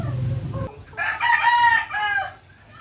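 A rooster crows loudly and close by, one long drawn-out call rising and falling, after a short burst of lower clucking from chickens.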